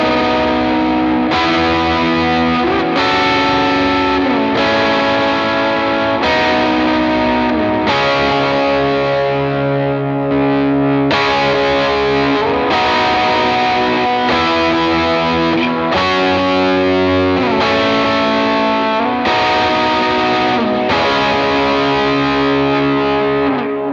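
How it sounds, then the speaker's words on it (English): An electric guitar plays rhythm chords through overdrive with reverb and delay for a worship song. The strummed chords are loud and steady, change every couple of seconds, and carry sustained distorted tails and echo throughout. "I like to turn on some reverb, and basically what we just had with just a little bit of reverb and delay."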